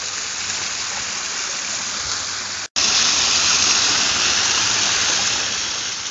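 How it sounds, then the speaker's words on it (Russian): A garden waterfall in a fountain garden in France pours in a steady, loud, broadband rush of falling water. The sound cuts out for a split second partway through, then resumes even stronger. "Водопадом прекрасным."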